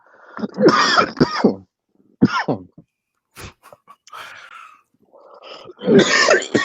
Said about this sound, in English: Coughing right into my fucking ear.